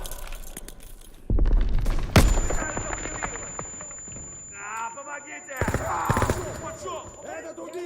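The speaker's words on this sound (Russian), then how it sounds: "Бросаю гранату!" A grenade bursting in the World War II shooter Call of Duty: WWII, a sudden heavy thud followed by a sharp loud bang amid scattered gunfire, then lingering debris, ringing, and shouted voices.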